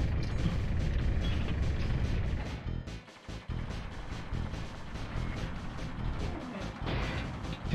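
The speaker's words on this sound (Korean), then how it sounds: "대포알이 날라오고." Crashing booms and impacts in Super Mario Galaxy as cannonballs fly past, a dense loud barrage with a short lull midway before the clatter resumes.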